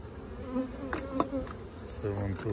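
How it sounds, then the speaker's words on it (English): Agitated honey bees hum and buzz at a hive while it is rearranged during a laying-worker fix, a steady close swarm drone beneath a few quiet spoken words. "The bees get agitated a bit."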